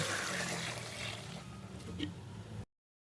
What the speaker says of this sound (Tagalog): dagdagan ng 10 litrong tubig